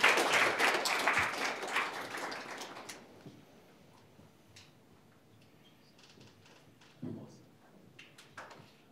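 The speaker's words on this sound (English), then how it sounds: "Let's get a round of applause." Applause from a coding-event audience, fairly close, for about three seconds, then dying away to a quiet room with scattered claps and small bumps.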